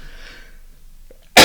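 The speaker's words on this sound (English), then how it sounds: "just had a bit of a sneezing fit there" A single sudden sneeze bursts out loud and close at the very end, after a near-silent stretch with a faint tone and a small breath.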